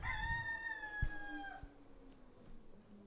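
A rooster crows once, a drawn-out cock-a-doodle-doo that fades into quiet background, fairly faint and distant-sounding with a few small knocks after it.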